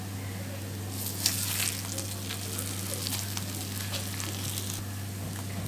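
Paneer roasts in a pan until golden brown, with a steady close sizzle and crackle throughout over a constant low hum, and a faint clink near the start.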